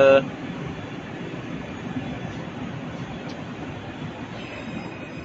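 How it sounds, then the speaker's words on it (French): Tram on Nice tram line 1 at the Henri Sappia terminus, a steady rolling rumble with faint wheel squeal and a brief tone at the start, heard close and continuous. "Henri Sapia, terminus de la ligne 1 du tramway"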